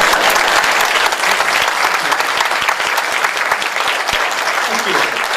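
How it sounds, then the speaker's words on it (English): Audience applause fills a talk about finding your groove, a loud, steady wash of clapping from many hands sustained throughout, with no voices standing out. "I had to ask for that applause"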